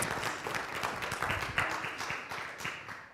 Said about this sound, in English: Can you all just keep clapping for Bruce, the new ED?